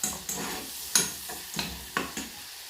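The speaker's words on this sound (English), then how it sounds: "Then the prawn, drop the prawn in." Prawns hit a hot pan with onion and cold sauce, sizzling in a run of soft bursts about every half second, like stirring or tossing, all close and fairly quiet with no talk.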